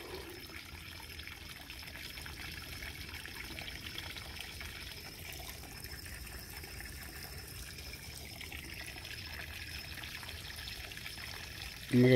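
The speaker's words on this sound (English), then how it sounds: "I'm gonna go turn this water off now." Water runs steadily in a continuous hissing trickle, close by, with no talking.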